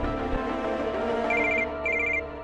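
A telephone rings with a steady electronic trill, two bursts of ringing over a sustained tonal background.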